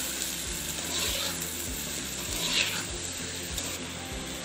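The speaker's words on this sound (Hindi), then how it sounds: "आप देख सकते हैं प्याज बहुत अच्छे से कुक हो रहे हैं" Onions sizzling in a pan with crushed red chili powder, turmeric and salt, a steady close frying crackle with faint stirring clicks and no talking.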